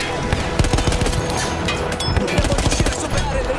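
Rapid gunfire from a gun in the World War I shooter game Battlefield 1, dense bursts of sharp cracks repeating across the whole stretch, loud and continuous with a busy battlefield din behind.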